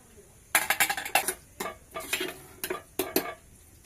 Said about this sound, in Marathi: कुकर उघडून घेऊया